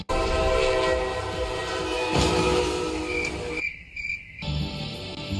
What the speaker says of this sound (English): Electric power moves the Florida Overland Express quickly and efficiently along its new state-of-the-art network of tracks.